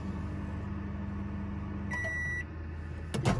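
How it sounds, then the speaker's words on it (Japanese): Microwave oven running inside a camper van hums with a steady low drone, then gives a short electronic beep followed by a brief clunk near the end. "普通の電子レンジ。"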